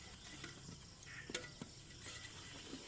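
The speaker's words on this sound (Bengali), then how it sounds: "ঝালের গুঁড়া দেওয়া হচ্ছে। আপনারা দেখেন আমি সুন্দরভাবে নাড়াচাড়া করছি।" Chili powder is stirred in a frying pan at an outdoor picnic, a soft continuous scrape and faint sizzle with a few sharper utensil taps; no one speaks.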